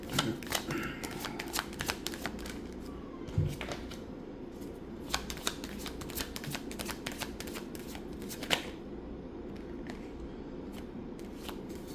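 A deck of cards is shuffled repeatedly at close range, producing quick riffling bursts and sharp snaps in an otherwise quiet room.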